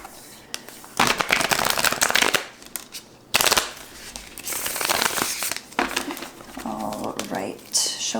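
Tarot cards are shuffled up close in several separate bursts of riffling and flapping, crisp papery rushes with short pauses between them, while someone speaks softly in between.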